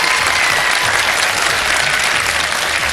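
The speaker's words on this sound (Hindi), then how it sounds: "तालियां बजा देंगे।" A studio audience at a televised Ramadan sehri show breaks into loud, steady applause, a dense continuous wash of clapping with no speech on top.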